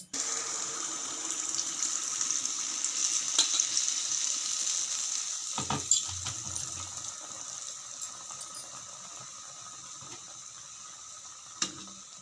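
Oil drizzled over appam frying in a pan, a steady close sizzle and hiss throughout with a few brief clinks and taps, no talking.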